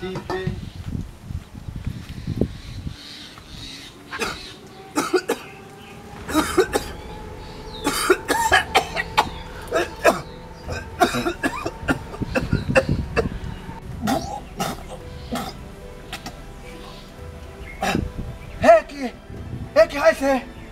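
A man in a Bangla comedy stage play coughs repeatedly in rough, throaty bursts, mixed with throat clearing and talk throughout, playing a doctor with a bad cough.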